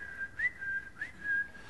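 Short electronic whistle tones of an incoming FaceTime call, a few thin chirps and slides at a steady pitch, fairly faint and heard alone with no talk.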